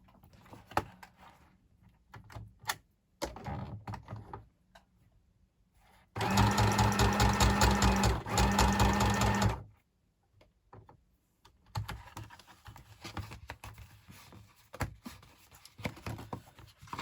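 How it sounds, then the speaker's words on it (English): A small domestic sewing machine runs a straight stitch in one loud, steady burst of rapid needle clatter lasting a few seconds, with quieter handling noises and shorter whirs before and after. "Sorry, I've only got my little sewing machine, so it's a bit awkward."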